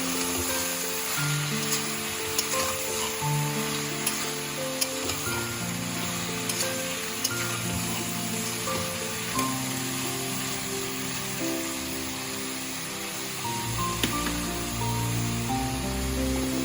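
Spices with chili powder being sautéed in a pan for a pui shak chanchra, a steady, dense sizzle like light rain running throughout, close and even with scattered tiny pops.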